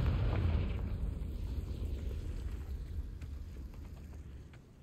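A Confringo fire spell bursts in Hogwarts Legacy while exploring the wildlands, a loud low rumbling blast that opens strong and slowly decays over several seconds.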